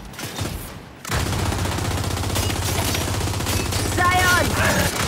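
Sustained gunfire in the Gears 5 video game, a dense, loud stream of rapid automatic shots after a brief lull, with a few high electronic chirps near the end.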